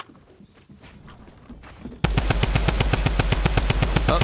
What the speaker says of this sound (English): How can a shotgun shoot me from that fucking far?